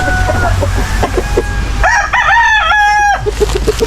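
Rhode Island chickens cluck in short repeated bursts, and then a rooster gives one loud, clear crow close by on a farm. Low background noise runs beneath.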